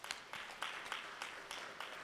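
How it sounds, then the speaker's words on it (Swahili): Audience at a Tanzanian young engineers forum applauding a professor, soft distant clapping from a small crowd with rhythmic bursts of claps, faint and steady throughout. "Naomba tumpigie makofi."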